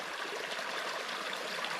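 A receded creek near a wild cabin runs in a steady, close rush of flowing water, constant and unbroken with no voices over it.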